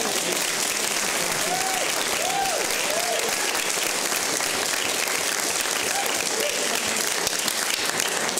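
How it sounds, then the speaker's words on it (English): Audience applause fills a church during an evening gospel praise concert by a jubilee choir at St James AME Zion, a steady dense wash of clapping throughout with a few faint voices calling out beneath it. "applaud one more time."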